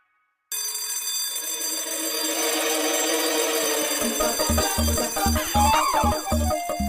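A loud ringing alarm bell sounds continuously after a brief silence, then pulses in rapid rhythmic bursts, close and insistent.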